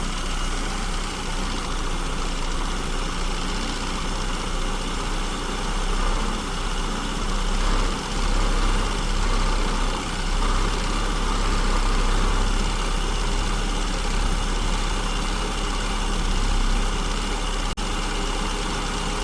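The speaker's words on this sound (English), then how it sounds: "I can hear the engine smoothing out." A car engine fitted with an SU carburetor idles steadily while its mixture is being adjusted. The low, even rumble is close and continuous, with no voices.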